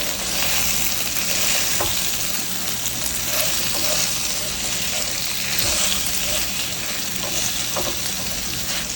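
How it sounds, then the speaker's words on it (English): Bhindi (okra) with salt frying and being stirred in a pan, a loud continuous sizzle with occasional scraping stir sounds, close and without speech. "Sprinkle some salt. And just stir it in."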